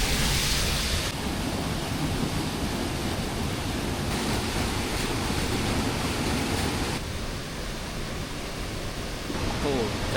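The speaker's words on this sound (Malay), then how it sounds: "Dia macam ada struktur gua tapi ada air lalu bawah." Water running beneath a rocky, cave-like rock structure in a forest during a hike, a steady, loud broadband rush that fills the whole clip with no voices over it.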